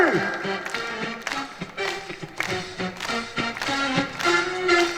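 An outdoor concert crowd at a Haeundae music festival claps along in a steady beat under live singing and a band playing a Korean folk-pop song.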